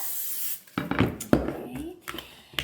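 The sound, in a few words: cooking spray on baking pan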